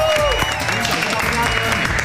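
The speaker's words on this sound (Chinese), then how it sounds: "掌声一下好不好？" Audience applause for children's cooking teams at an elementary school event, a steady burst of clapping from a nearby crowd with a voice talking over it.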